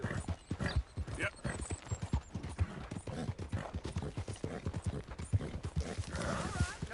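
A horse's hooves clip-clop in Red Dead Redemption 2, a brisk, uneven run of close, sharp hoof strikes carrying on for several seconds, with game dialogue partly over it.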